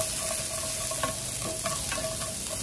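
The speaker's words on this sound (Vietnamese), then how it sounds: "Kiệu này chúng ta xào nó cũng hơi lâu đó các bạn" Pickled shallots being stir-fried in a pan for a vegetarian stir-fry, with a steady sizzle and scattered scraping and stirring knocks running throughout, close and continuous, no talking.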